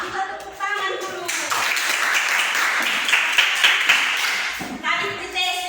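A classroom of children claps together in a few seconds of dense, close applause that starts and ends with a voice and children's voices talking.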